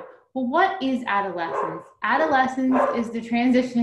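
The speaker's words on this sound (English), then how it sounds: "Sorry about my dogs." Dogs bark and yip indoors at moderate distance, partly masked by a person lecturing close to the microphone.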